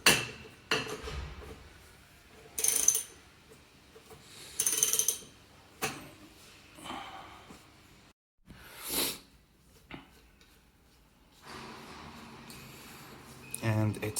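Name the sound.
wrench removing bolt from motorcycle triple tree clamp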